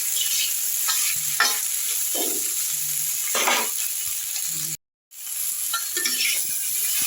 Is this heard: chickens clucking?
no